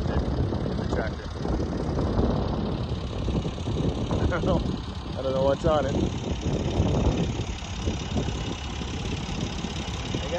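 Tractor engine idling in a pasture while mowing, with curious cows nearby: a steady, mid-pitched mechanical drone runs throughout, partly under close talk.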